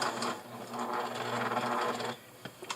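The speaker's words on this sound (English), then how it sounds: "And then I am going to pivot right here and sew down to the next little corner," A sewing machine stitches fabric for a dog bandana, running in a steady, close, loud whirring burst, then stopping for a pivot, with a few light clicks at the end.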